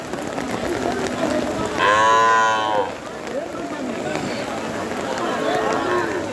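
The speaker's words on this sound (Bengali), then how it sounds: "তবে খুব কষ্টে রয়েছে গাভী বাছুরগুলো।" At a rainy village cattle market in Naogaon, a Sahiwal cow with calves gives one loud, drawn-out moo midway, over a steady bustle of crowd noise and people talking.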